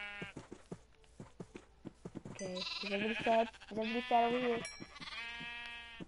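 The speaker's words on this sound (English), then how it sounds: "Oh, hi sheep." Sheep in the Minecraft video game bleat repeatedly, a run of wavering baas following a few short clicks, with someone talking briefly over the game sounds.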